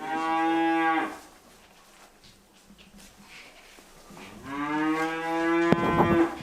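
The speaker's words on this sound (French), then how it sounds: "Les vaches, elles sont toujours là, ici." Cattle on a farm moo loudly, one long low call at the start and another drawn-out moo near the end, with quiet farmyard background in between.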